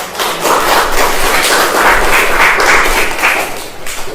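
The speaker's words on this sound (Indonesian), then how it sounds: "kita beri tepuk tangan untuk kelompok 2" A room full of students claps loudly for group 2 in a university teaching session, with sustained, dense, close applause lasting about four seconds and no talk over it.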